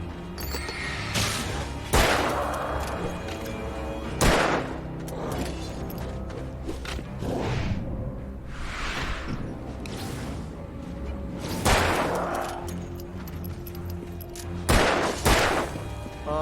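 Gunfire in the Alan Wake video game: several sharp, loud shots ring out at irregular intervals, each followed by a brief echoing tail over a dark, rumbling ambient backdrop.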